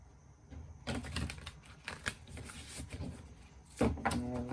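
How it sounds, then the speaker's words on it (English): Light Seers tarot cards being shuffled by hand, a run of close, crisp riffling and tapping bursts with brief pauses, swelling again near the end. "I'm going to do some initial shuffling for this."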